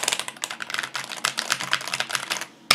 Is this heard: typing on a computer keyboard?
yes